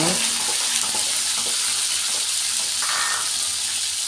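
Pork stir-fried with sweet peppers in a pan gives a steady, loud, hissing sizzle that runs throughout, with faint clinks of stirring.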